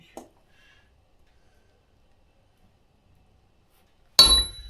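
A hammer strikes a stamp into a hot seax blade, a 5th-century Suffolk pattern, during forging. After near silence there is one loud, sharp metallic strike close by at the very end.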